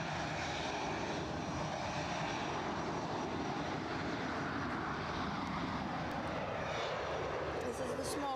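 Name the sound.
KLM passenger jet at Edinburgh Airport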